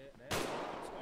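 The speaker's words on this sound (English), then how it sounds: "Oh shit, they're shooting." A sudden loud gunshot blast in GTA V on a NoPixel roleplay server, a single sharp crack with a short, rumbling tail that follows a moment of quieter sound.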